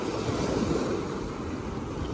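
Ocean waves wash continuously onto the sand at Edisto Beach, a loud, steady surf roar mixed with wind buffeting the microphone, with no voices.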